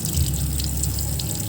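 Water streams steadily from a filtered kitchen faucet with a small spinning electric indicator inside, a continuous close trickle with no talk over it.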